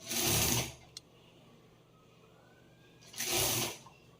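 An electric sewing machine stitches a prince cut blouse in two quick bursts of fast rattling, the first about half a second long and the second a few seconds later, with quiet room sound between them.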